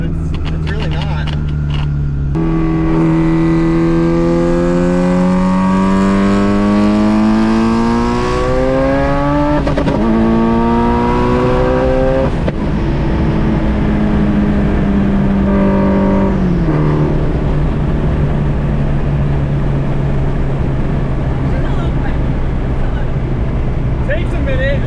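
A K-swapped Subaru STI with two big turbos pulls hard up through the gears, its engine droning and climbing in pitch, dropping briefly at each shift, then settling into a loud steady cruise with a voice talking over it.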